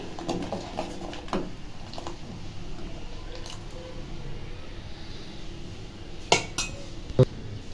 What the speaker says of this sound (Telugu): చక్కెర వేసేసుకున్నాను కదా, ఇప్పుడు కలుపుకుంటున్నాను